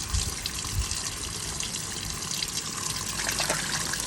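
A Hoover 1400 washing machine on a permanent press cycle fills with water, a steady loud gushing and trickling hiss running unbroken, close by, with no voices.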